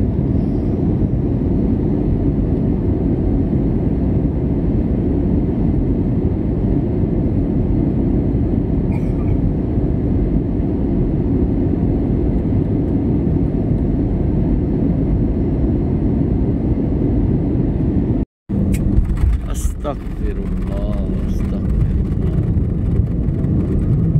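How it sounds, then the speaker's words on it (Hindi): Passenger airplane landing at Sharjah airport, heard from inside the cabin: a loud, continuous low engine and airflow roar for the whole stretch, with a brief cut and a rumbling jolt near the end, no talk. "चंद ही मिनटों में हम शारजा एयरपोर्ट पर लैंड करने वाले हैं।"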